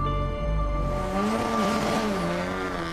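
A rally race car accelerates hard, its engine revving and rising in pitch with tire squeal layered over the loud, close roar.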